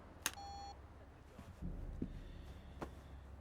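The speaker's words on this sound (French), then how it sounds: "Merci de laisser votre message après le bip." A voicemail beep sounds once as a short, clear electronic tone near the start, followed by quiet room noise and faint movement.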